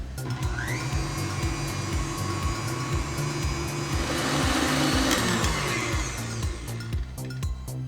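Buttercream being whisked in a loud electric mixer that whirs steadily, its pitch climbing and shifting a little as the beater runs, with rhythmic churning underneath and no talking.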